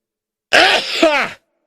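A single loud, close human sneeze with a voiced, breathy burst lasting under a second, then silence.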